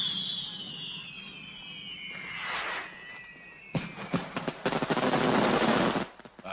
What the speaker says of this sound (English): Fireworks. Explosives.